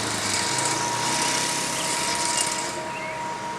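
A 1960s pull-behind lawn mower engine bogging as it clogs on grass, a loud steady close drone that sags slightly toward the end.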